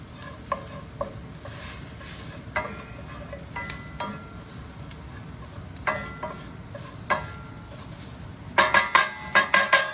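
Double-concentrated tomato paste for beef stroganoff sizzles in a hot pan while a utensil stirs and scrapes it, with a steady fry hiss under scattered clinks and a quick burst of scraping taps near the end.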